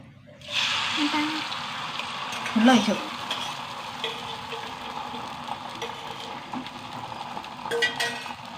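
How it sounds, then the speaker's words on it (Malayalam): An egg sizzles in a hot pan, a steady frying hiss starting abruptly, with a few scraping utensil clinks over it. "മുട്ട പൊരിക്കട്ടെ"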